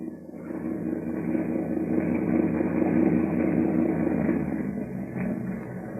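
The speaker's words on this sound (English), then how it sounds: "Suddenly, the thick silence is broken by the low purr of a motorboat engine." Motorboat engine sound effect for an old-time radio drama, a steady low purring drone that holds evenly for several seconds, moderately loud and without voices.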